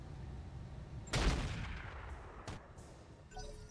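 Fire support artillery salvos in the RogueTech mech game, a heavy booming blast followed by a long rumbling decay and a second thud, then faint chirping sounds.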